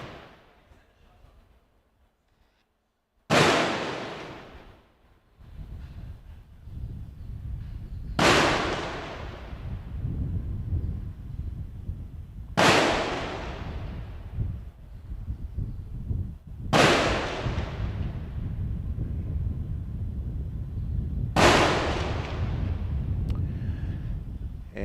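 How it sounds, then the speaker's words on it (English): Cannon gun salute at a military parade for Grenada's Independence anniversary: after a quiet start, five loud booming blasts fire at roughly four-second intervals, each decaying into a rumbling echo over steady crowd and ambient noise. "the first sound of the cannon goes off"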